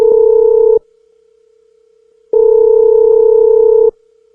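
EJEAS Q4 motorcycle helmet Bluetooth intercom redial tone: two long steady electronic beeps separated by a pause, clean and loud with no voices.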